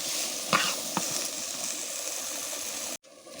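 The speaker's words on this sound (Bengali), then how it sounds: "সিদ্ধ করা আলুগুলো মশলার সঙ্গে মিশিয়ে নাড়াচাড়া করে নেব।" Boiled potatoes being stirred together with turmeric, black pepper, ground coriander and salt for a Kolkata-style aloo chop filling give a steady, close sizzling hiss with a couple of scraping knocks, then cut off abruptly.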